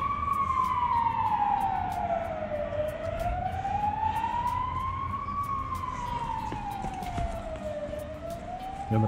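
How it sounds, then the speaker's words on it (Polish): A wailing ambulance or fire engine siren rises and falls slowly in pitch, sweeping steadily over a constant low rumble of traffic, fairly close and loud throughout. "Karetki, straże."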